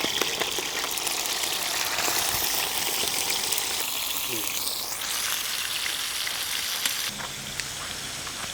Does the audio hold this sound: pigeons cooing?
no